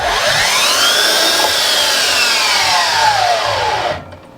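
A Makita DLS211Z 36V slide miter saw, powered by an 8.0Ah battery, runs free with a loud, steady high whine for about four seconds, then cuts off abruptly and falls silent.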